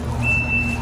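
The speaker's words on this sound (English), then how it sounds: "Backup alarm." The backup alarm of a 2023 Kubota SVL97-2 compact track loader with a forestry package sounds a single sustained, high electronic beep, loud and close over a low engine rumble.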